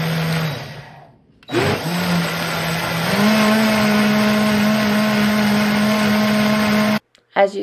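OmniBlend professional blender running loud and close with ingredients inside, a steady high whirring motor that briefly drops and restarts, then climbs to a higher constant pitch before cutting off abruptly.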